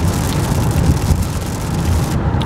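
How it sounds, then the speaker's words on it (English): Steady rain and road roar fill the cabin of a 2007 Toyota Camry Hybrid cruising on the highway, a constant loud broadband wash with heavy low rumble and no talking. "It starts as soon as I get on the highway, it's raining."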